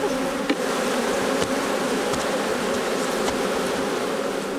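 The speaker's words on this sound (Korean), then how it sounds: "윙윙대는 꿀벌의 날갯짓 소리만으로도 오금이 저리는데요" Honeybees buzzing their wings on a Jeju honey farm, a dense, steady drone from many insects close by that holds evenly throughout, with a few brief louder passes of single bees.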